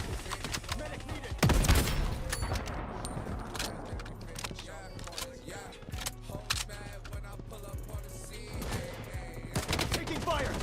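Rapid gunfire in the Bloodstrike shooter, steady crackling shots and sharp cracks over constant battle noise, with a louder blast early on and voices talking in the background.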